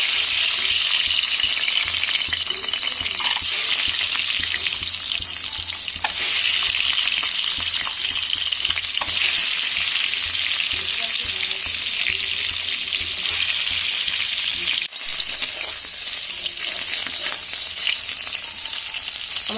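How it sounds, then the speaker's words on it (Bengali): Duck eggs, coated with turmeric and salt, fry one by one in hot oil in a wok, giving a loud, continuous sizzle with brief bursts and stirring noises. "এবার আমি এক এক করে ডিম দিয়ে ডিমগুলো ভেজে নেব"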